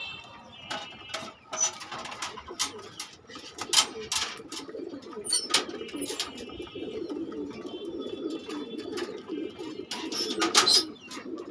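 A white male pigeon coos steadily, a low rolling murmur repeating close by, with sharp clicks, wing flutters and other birds chirping around it.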